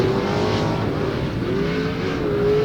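900-horsepower short course race trucks roar around a fairground track, a loud continuous engine drone with rising and falling pitch as they rev and pass, no talking.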